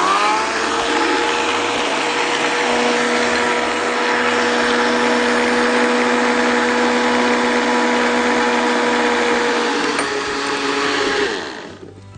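Electric blender whirring steadily while blending watermelon juice, a loud continuous motor drone with a spinning whine that holds for about eleven seconds before winding down.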